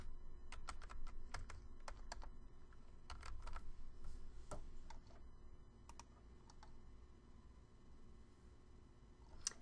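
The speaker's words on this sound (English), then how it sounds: "I'm going to type in aviation history." Light, quick keystrokes on a computer keyboard typing a short search query, a brief burst of separate clicks followed by a few scattered taps, faint and close against a quiet background.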